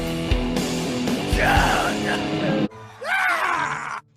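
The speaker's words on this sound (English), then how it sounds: "I think the Dean Scream actually kind of works with the song." Howard Dean's famous scream blended into a music track, with loud yelling, strained vocal bursts and a rising, whooping cry over a steady musical bed, followed by a short drop and a second shrill upward yell.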